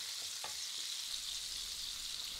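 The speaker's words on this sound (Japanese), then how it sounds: "今回オーブンに入れずにフライパンだけで焼いてます" Duck breast sears in a frying pan on the stovetop with no oven, giving a steady, close hiss of sizzling fat that fills the clip, broken once by a short clink near the start.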